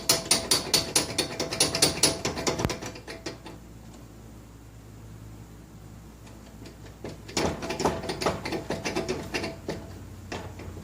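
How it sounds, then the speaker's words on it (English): Ratchet crimper clicking as it crimps lugs onto battery cables for a 1975 Vanguard Citicar electric car, rapid bursts of close ratchet clicks, a quiet pause, then another run of clicking. "Back over to the crimper again."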